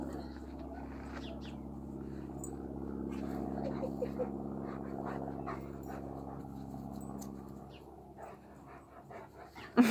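A Great Pyrenees pants steadily and rhythmically up close, quick breaths continuing throughout with a low hum underneath.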